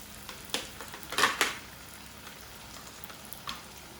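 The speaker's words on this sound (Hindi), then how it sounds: "जितनी आपको ज़रूरत हो उतनी ही फ्राई करें" Spring rolls fry in hot oil with a soft sizzle and a few sharper crackles and pops, fairly close, with no talking.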